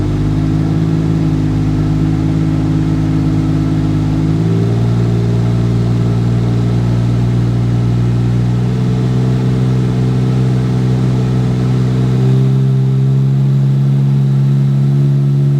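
A turbocharged 4.1-litre Porsche Cayman engine runs on a dyno with a smaller turbo fitted, its loud, steady drone stepping up in pitch partway through and holding as revs climb, with no talk over it.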